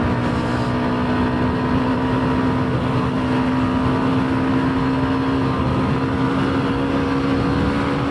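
Hero Xtreme 125 motorcycle, a 2026 model, holding a steady engine drone near top speed in city traffic, with a constant tone and loud wind rush throughout.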